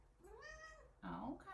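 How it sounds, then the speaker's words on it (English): A pet cat named Neffy, looking out a window, gives two close meows, the first a drawn-out rising and falling call and the second shorter and louder. "Meow."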